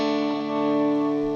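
An electric guitar through a Line 6 Helix effects patch holds a sustained, shimmering chord with effects-laden tone, steady and alone.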